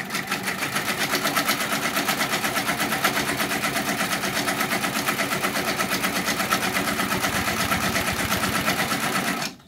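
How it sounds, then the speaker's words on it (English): An embroidery machine stitches a single running stitch on an in-the-hoop reverse appliqué design, a loud, fast, even mechanical chatter of the needle that runs steadily and stops abruptly at the end. "Go back to that same old placement, single running stitch. Hit go. Watch your machine, okay?"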